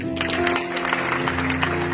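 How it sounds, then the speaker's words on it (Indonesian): A church congregation claps together, steady broadband clapping over a low sustained keyboard drone, fairly close and loud. "Tepuk tangan."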